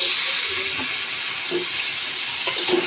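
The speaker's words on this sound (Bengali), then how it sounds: "পেঁয়াজ আর টমেটো ভাজা হয়ে গেছে, এখন মাছের মাথাটি দিয়ে দিব।" Pangas fish head going into a pan of frying onion and tomato, a steady hiss of frying with a few soft clatters and sizzle bursts, close and fairly loud with no speech.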